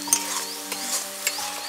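Spice paste, mixed in water, sizzles with softened tomatoes in a pan while ghugni is cooked, producing a soft continuous frying hiss with a few light stirring scrapes over a short moment.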